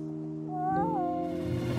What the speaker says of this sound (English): Cat! No, Kitty, you'll get paw prints all over me.